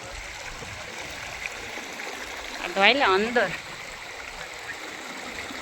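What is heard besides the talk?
flowing stream water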